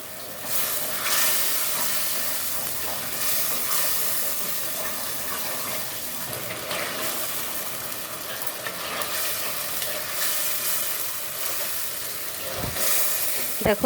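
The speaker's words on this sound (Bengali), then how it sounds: "মশলাটা সুন্দর করে ভুনা করা হয়ে গেছে" Spiced masala sizzles and fries in a clay pot, a steady loud hiss with some stirring throughout, no talk.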